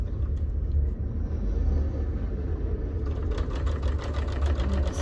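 A domestic sewing machine stitches quilt binding, a low steady motor hum with a faster rhythmic needle chatter picking up near the end, no talking.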